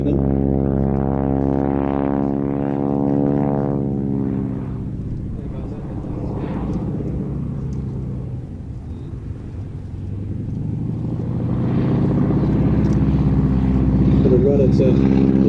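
A Stearman biplane drones past at an air display, its propeller engine a loud, throbbing hum that fades in the middle and builds again toward the end, with a commentator talking over it.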